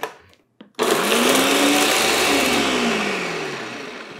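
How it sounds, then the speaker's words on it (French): A countertop blender whirs to life after a short pause and runs steadily, re-blending and frothing a maple syrup mixture with a loud, even motor hum whose pitch sags slightly as it churns. "je vais rebroyer tout ça, je vais remélanger tout ça"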